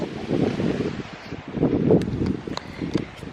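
Gusty wind buffets the microphone outdoors over a vegetable garden laid with weed guard fabric, surging in two louder bursts with light flapping and rustling between.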